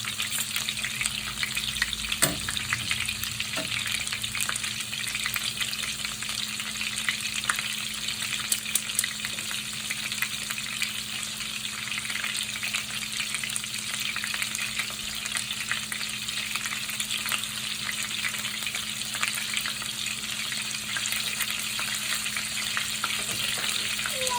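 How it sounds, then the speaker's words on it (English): Italian meatballs browning in a pan give a steady, close, dense sizzle and crackle with occasional faint pops and stirring, running unbroken and without talk. "I'm going to brown the meatballs"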